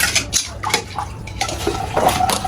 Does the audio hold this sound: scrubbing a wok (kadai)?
yes